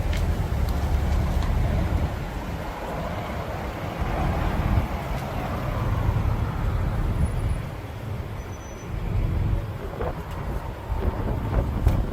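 A police car drives off along a roadway, its engine and tire rumble a steady low wash mixed with traffic noise and wind buffeting the microphone, fairly loud and continuous with no one talking.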